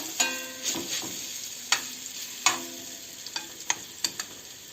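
Hot oil sizzles in a pan of frying zucchini and meat fritters while a spoon scrapes and taps several times, sharp clicks rising over the steady frying hiss.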